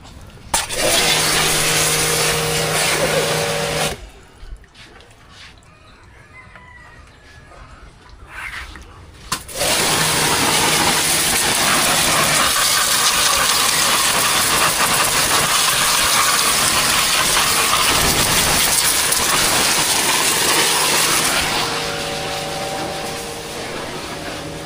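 A noisy Honda TMX motorcycle engine with a smashed radiator runs loud and steady, with a few seconds' break partway through before the rough, hissing drone resumes and continues.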